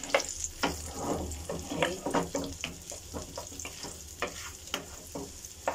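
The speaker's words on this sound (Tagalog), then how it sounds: "habang natutunaw yung part ng butter, ilagay na natin yung ating garlic" Garlic sizzles and crackles in melting butter in a pan, a steady frying hiss broken by utensil scrapes and stirring clatter, with one brief spoken word.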